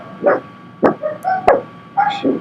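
Small dogs bark in quick, high yaps, about five separate barks in a loose rhythm, close and loud with no talking.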